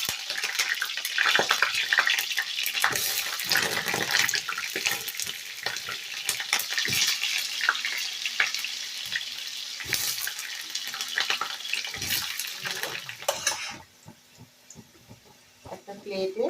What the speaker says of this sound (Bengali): আলুটা এবার তেলে দিয়ে দেব